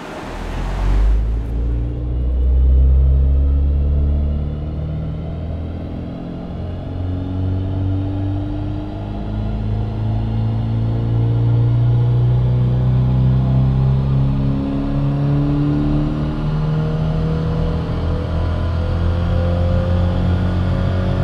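Tuned naturally aspirated boxer engine revving on a dyno, a loud sustained engine roar with rising harmonic pitch sweeping up through the run, steady and close, with no talking over it.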